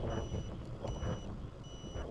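Rhythmic electronic beeping of a turn signal on a Bigniu BGS PRO 60V electric dirt bike, repeating about every fifth of a second over road and wind noise while riding.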